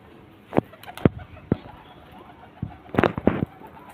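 Sharp bursts of wing flapping sound close by as a hand-released pigeon takes off, with a few scattered flutters and soft cooing.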